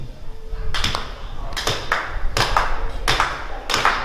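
A clap chant at a Freedom Riders commemoration in San Antonio: five or six sharp, close clap bursts land in a rough steady rhythm over a low room murmur, with no talk between them.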